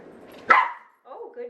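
Small dog gives one sharp close bark, followed by softer whiny vocal sounds, loud against an otherwise quiet room.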